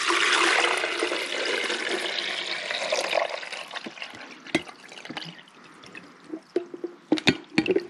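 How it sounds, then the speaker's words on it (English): Water pours into the reservoir of a Mueller Ultra coffee maker in a steady, splashing stream that gradually thins to scattered drips and small knocks near the end. "I'm gonna dump it in there. There's the reservoir for the water."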